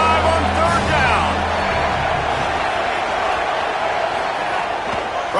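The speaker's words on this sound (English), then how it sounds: "The Buckeye crowd alive on third down." Ohio State Buckeye football stadium crowd roars on third down, a dense sustained wall of cheering noise with a commentator talking over it.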